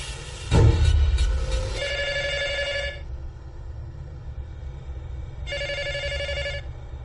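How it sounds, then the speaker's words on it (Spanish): A telephone bell rings in two separate bursts with a pause between them, loud and close, after a thump at the start and with no talk. "Llamaron por teléfono."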